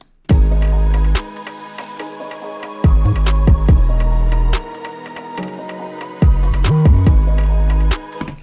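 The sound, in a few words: drill drum beat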